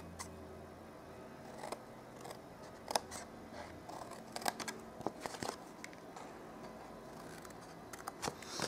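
Scissors cutting paper card stock for a handmade pizza box, a faint close series of irregular snips and crisp clicks over quiet room tone.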